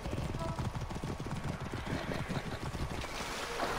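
A horse gallops in the video game Assassin's Creed Origins, with rapid, steady hoofbeats thudding low beneath a constant rushing wash of ambient noise for the whole stretch.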